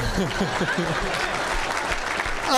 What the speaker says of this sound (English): Everybody, a round of applause besides Bill